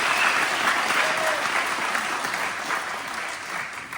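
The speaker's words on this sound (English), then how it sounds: "When I announce that, I always get a cheer" An audience at a public forum bursts into sustained applause with some cheering, a dense wash of clapping from a crowd that stays loud before easing slightly, with faint voices mixed in.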